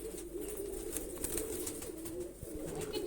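Pigeons coo steadily in a low, murmuring drone, several birds close together, with faint rustling behind.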